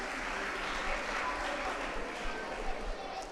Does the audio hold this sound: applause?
yes